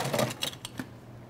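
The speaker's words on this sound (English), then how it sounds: "Then we're going to add some ice." Ice cubes drop into a salt-rimmed cocktail glass while a margarita is being made, giving a few quick close clinks and clatters in a short burst.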